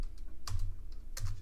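Keys tap on a computer keyboard as commands are typed in a Linux lab exercise, with a few close, sharp clicks over a low background hum.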